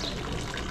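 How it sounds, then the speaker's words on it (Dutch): Steady splashing of water pouring into a pool, a continuous broadband wash with no voices. "Hij is water aan het dragen en hij gooit het zo in het water."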